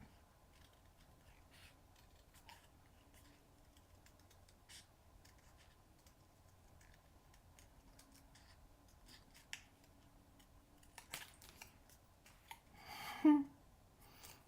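Small scissors make fussy cuts around a stamped image on basic white cardstock, with sparse, quiet snips scattered across a near-silent background and a louder rustle near the end.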